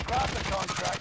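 Rapid gunfire bursts in the video game Call of Duty Modern Warfare, a quick stuttering string of shots over about a second, mixed under game noise and voices.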